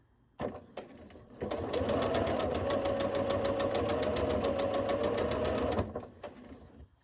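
A sewing machine stitches quilt fabric along a large curve, joining a quarter-circle piece to background fabric. A few short starts lead into a long, steady, close run of rapid stitching that stops abruptly.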